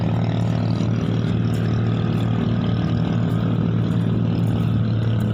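A steady, loud low engine drone runs without a break as a large boat passes under the Narit bridge in Surat Thani, with no voices over it.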